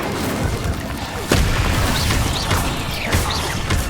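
The Incendio fire spell in Hogwarts Legacy combat bursts out as sharp crashing blasts and whooshes, a few hits in a row over loud, dense game music and effects.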